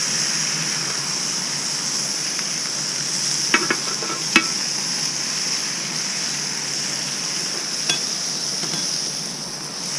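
Burgers sizzling on a grill griddle, a continuous hissing fry with a few sharp clicks and taps from a spatula, loud and close, no voices.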